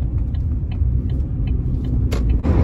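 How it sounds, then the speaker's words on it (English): A Chevrolet Spark car drives along with a steady low road rumble and engine drone close up, with a faint rhythmic ticking and a brief harsher rush near the end. "so I'm driving and it literally is so smooth"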